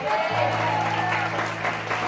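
A church congregation applauds during a Spanish-language service, a dense wash of hands with a low steady hum beneath and a hint of voices mixed in.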